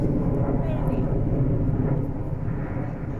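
Osprey tiltrotor aircraft flying overhead, a loud, steady low rumble of engines and rotors that holds through the whole stretch and eases slightly toward the end, with a voice briefly heard under it.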